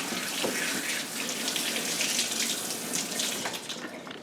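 Tap water runs steadily into a sink during handwashing before making pancakes, a continuous close splashing hiss with no talk over it.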